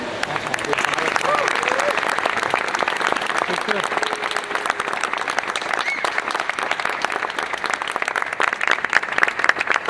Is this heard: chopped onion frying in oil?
no